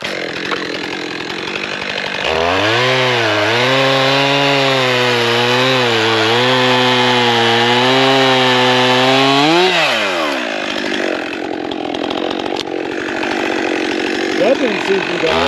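A Stihl MS400C chainsaw fitted with a carbide chain bucks wood into pieces for the chipper. A loud, close engine whine rises and falls under load for several seconds, then drops back to idle.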